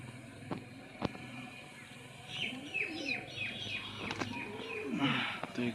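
A pair of domestic pigeons in a loft coo in soft, low, rolling calls, with a few higher chirps and clicks nearby over a faint background hum.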